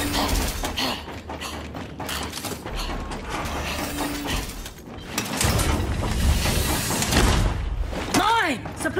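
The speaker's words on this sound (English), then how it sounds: "Reloading!" Mechanical clicks and ratcheting of a weapon being reloaded in the video game Gears 5 during a solo Labyrinth run on Master difficulty, heard close amid busy game noise and bursts of voice.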